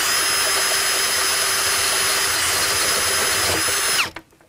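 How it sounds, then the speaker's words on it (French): A 26 mm flat drill bit bores through a plastic rainwater tank with a loud, steady high whine and grinding hiss that stops abruptly near the end. "pour percer, l'idéal c'est une mèche plate de 26 mm de diamètre"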